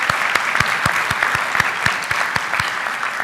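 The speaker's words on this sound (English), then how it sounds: "I'd love to give her a round of applause for if she's watching at home" Steady, dense applause from an audience at a school board meeting, close and continuous, with sharp individual claps standing out over the wash of hands.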